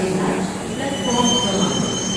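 Metal wheels squeal loudly against the rails as a train rolls nearby, with a continuous rumble and high screeching tones throughout.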